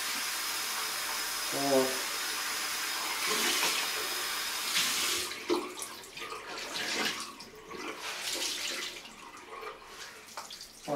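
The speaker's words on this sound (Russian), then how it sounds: "И еще разочек уже, прям кипяточек туда заливаем." Boiling water poured from a kettle onto a towel, a close splashing pour with a brief gurgle, mixed with a short spoken word.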